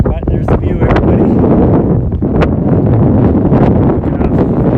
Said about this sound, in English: It is very windy up here.